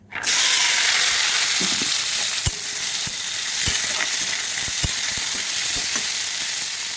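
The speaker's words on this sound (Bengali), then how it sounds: "তো এবার আমি এখানে যে ভেজিটেবলসগুলো রয়েছে সেগুলো একটুখানি ভেজে নেবো।" Vegetables fry in hot oil in a kadai with a loud, steady sizzle right from the start, broken by occasional sharp clicks and scrapes of a utensil, with no talking.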